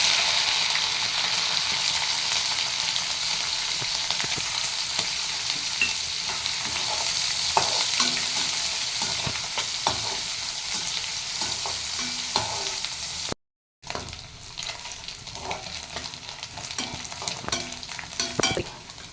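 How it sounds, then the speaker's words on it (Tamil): Dried anchovies (nethili karuvadu) sauté in hot oil with tomato, curry leaves and fennel powder, a dense, steady sizzle with occasional stirring scrapes, close by, briefly cutting out near the end before resuming. "எண்ணெய் காஞ்சதும் கருவாடை போட்டு வதக்கி வச்சுக்கணும்"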